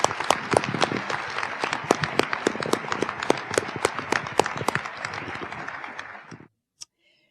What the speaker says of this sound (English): Let's give them a round of applause for all their work.